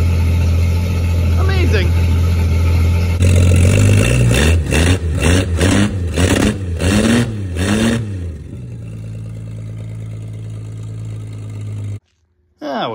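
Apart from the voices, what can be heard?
1967 Plymouth Barracuda engine running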